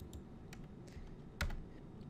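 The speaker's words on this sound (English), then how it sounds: "I could backspace and type my smart number before I press enter" Sparse clicks of a computer keyboard, with one louder key press near the end, tapped out while a simple drawing program is used.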